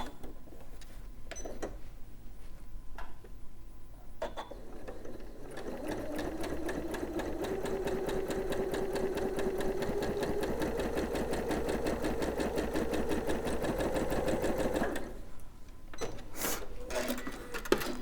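A sewing machine set to a short stitch length runs fabric through in a steady, close, rapid whir for about ten seconds, framed by a few clicks and handling noises before and after.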